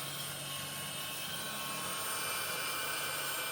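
A heat gun blows hot air onto a scuba dive torch to loosen it, giving a steady, close, breathy roar that holds level throughout with no talk.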